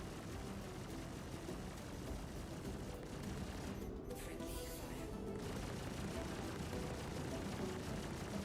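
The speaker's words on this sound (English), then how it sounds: "Another ship shooting me from behind" Spaceship weapons fire in Star Citizen, a dense, loud barrage of rapid shots striking from behind, blending into a continuous roaring rumble with a brief change in texture midway.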